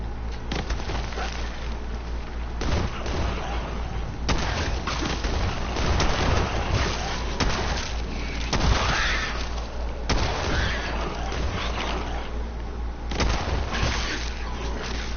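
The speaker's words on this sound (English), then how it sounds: "that's a gunshot, isn't it?" Gunfire in the video game Fallout 4, a series of booming shots and blasts scattered through a dense, noisy stretch of game sound, with someone talking at times.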